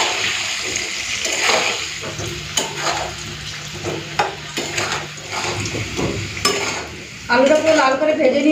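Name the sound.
potatoes frying in hot oil in a pan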